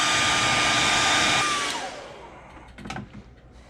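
A heat gun blows on freshly airbrushed paint on a topwater popper lure, a close steady whooshing roar that is switched off after about a second and a half and winds down, followed by faint handling clicks.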